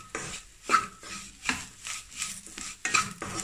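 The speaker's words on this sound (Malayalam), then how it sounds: "നന്നായിട്ട് ചേർത്ത് ഇളക്കി കൊടുക്കുക." A spoon scrapes and clinks against a pan while a mixture is stirred, in repeated bursts about every half second, fairly close and with no talking.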